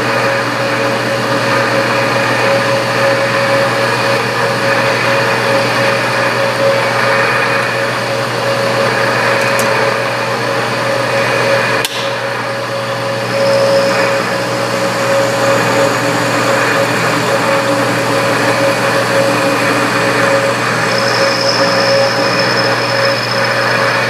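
A metal lathe takes a final cut on a scissor knurl workpiece, giving off a steady whine with a constant tonal hum. There are a couple of brief sharp ticks midway, and the sound is heard alone without voices.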